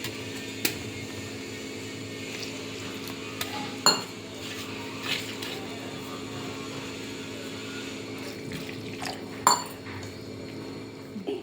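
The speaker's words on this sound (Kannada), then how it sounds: "ಈಗ ಸ್ವಲ್ಪ ನೀರು ಹಾಕಿ ನಾವು ಇದನ್ನು ಕಲಿಸ್ಕೋಬೇಕ್ರಿ" Utensils clink and scrape in a bowl as flour batter is mixed with water for gobi manchurian in a home kitchen, a steady faint stirring with a few sharper knocks, no one speaking.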